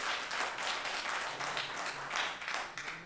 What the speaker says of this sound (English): Please don't applaud.